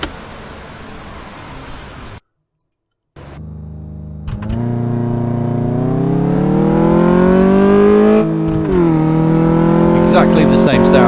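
A car engine in the video game Car Mechanic Simulator 2014 revs up, its pitch climbing steadily as it accelerates, after a brief idle and a moment of silence.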